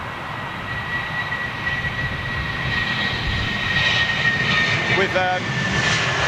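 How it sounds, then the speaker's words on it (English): Boeing 777 jet engine at London Heathrow, a steady loud roar with a whining tone, swelling slightly, while a person speaks briefly. "Just tracking this 777."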